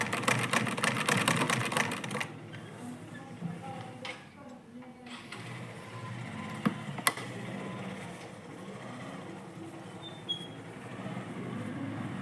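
A sewing machine stitches a row in a fast, even mechanical rattle for about two seconds. It then stops, leaving a quiet room with a few scattered clicks and handling noises.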